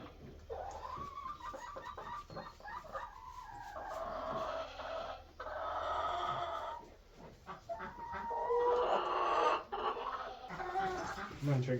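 Chickens on a homestead clucking and crowing nearby, repeated bursts of clucks rising and falling, with a person talking softly at times.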